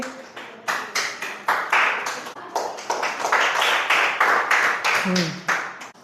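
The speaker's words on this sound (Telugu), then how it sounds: "క్లాప్స్ కొట్టండి అతనికి" A class of eighth-grade students applauds a classmate, many hands clapping together in a quick, fairly steady rhythm that stays loud and close for the whole stretch.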